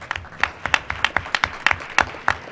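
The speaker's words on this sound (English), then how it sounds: "Let's give the PTA a round of applause." A small group claps for a school PTA at a board meeting, a short burst of scattered, uneven claps at moderate volume, heard briefly with no talking.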